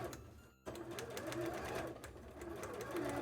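A sewing machine stitches fabric for a cosplay tail, running in a close, fast, steady mechanical chatter after a brief pause near the start, with its pitch rising and falling slightly as the speed changes.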